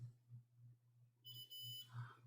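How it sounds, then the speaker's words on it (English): A multimeter in continuity mode sounds a single sustained high electronic beep that starts partway through and holds steadily, faint over a low mains hum. "let me put it in continuity mode because it would beep then"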